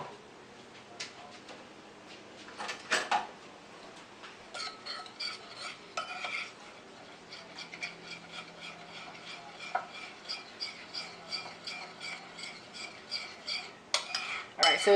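Utensil clinks and scraping as ingredients for a trout meal-kit dish are mixed in a bowl, with irregular taps and a few sharper knocks, fairly close and moderately quiet.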